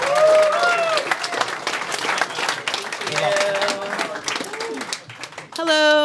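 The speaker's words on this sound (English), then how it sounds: "Can we have a round of applause for our final speaker" Applause at a business development conference talk rises loudly, with speech-like voices and tonal sounds mixed in throughout, dipping midway and ending with a brief sharp tonal burst.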